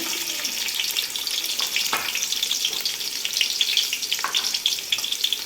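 Onions frying in oil, a loud steady hiss of sizzling with occasional crackles and soft stirring scrapes throughout.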